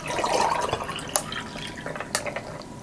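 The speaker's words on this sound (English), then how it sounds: "And then I'll just pour in our liquid." Cold liquid is poured into a cup over melted ice cubes, a close splashing trickle with scattered drips and small clinks that thins out toward the end.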